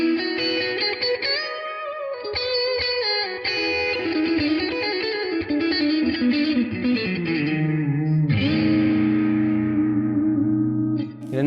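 An electric guitar plays through two mic'd cabinets, one dry and one with effects, giving distorted chords and sustained notes with chorus-like shimmer, echo and reverb, loud and up close with no talking.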